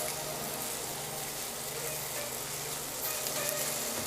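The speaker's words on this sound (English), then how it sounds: "Mix all this well and cook till the onions become slightly translucent." Onions with salt sizzle steadily in a pan while cooking for a vegetarian seekh kebab, a constant close hiss with faint clinks and no talk.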